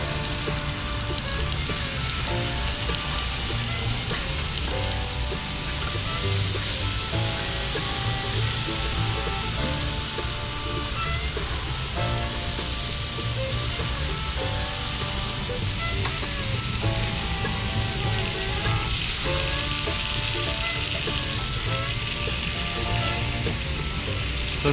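BBQ chicken sizzling on a Magma grill aboard a boat, a continuous crackling hiss with faint rhythmic ticking and clatter layered in, steady and close throughout with no speech.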